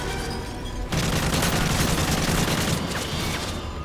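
Heavy automatic gunfire from Call of Duty: Modern Warfare 3 Special Ops, a quieter moment giving way to a dense, loud, continuous volley of rapid shots that runs to the end.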